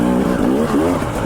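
A motorcycle engine revs loud and close on rocky Arizona trail riding, with a rising and falling whine over a short burst.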